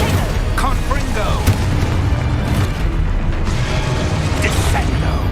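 Booming blasts and crackling impacts from the Confringo blasting spell in Hogwarts Legacy, loud and continuous with repeated bursts over dense game noise and a faint voice.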